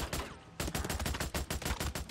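Rapid gunfire from the Days Gone video game, bursts of sharp loud shots in a fast rhythm with a brief gap near the start, no talking.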